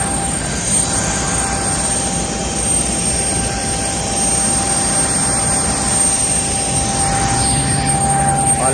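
Steady loud jet engine roar from a parked airliner at Baku's airport in Azerbaijan, a constant broadband rumble with a high whine running through it, close and continuous with no talking.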